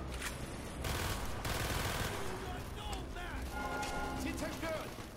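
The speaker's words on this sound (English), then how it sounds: "Who's shooting at me?" Rapid bursts of automatic gunfire and scattered shots from the Call of Duty: Black Ops video game, loud and continuous, mixed with game sound effects and a dense battle din.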